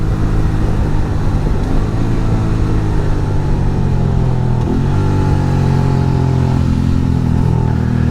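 A Suzuki V-Strom 650 motorcycle ridden with a pillion passenger: a loud, steady engine drone with wind rush throughout, and the pitch shifts audibly about halfway through as the revs change.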